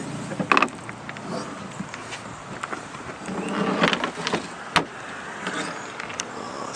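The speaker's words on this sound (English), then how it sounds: "the seat does fold up and go all the way to the front." A car seat with vinyl upholstery is folded up and slid all the way forward, making close mechanical clunks, creaks and sliding rattles, with a few sharp knocks standing out from a steady background rumble.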